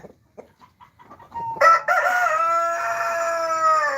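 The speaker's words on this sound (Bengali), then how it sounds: "এ হচ্ছে আমাদের ফেন্সি মুরগির ফার্ম" A few soft clucks, then a rooster crows loudly and close on a fancy-breed poultry farm, a long drawn-out call that holds to the end.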